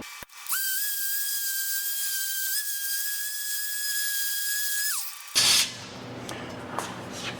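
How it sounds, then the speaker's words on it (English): Small orbital sander smoothing thin 20 gauge metal, a steady high-pitched whine that holds for about five seconds, then winds down and gives way to scattered handling noise. "I'm gonna hit it with a little orbital sander here"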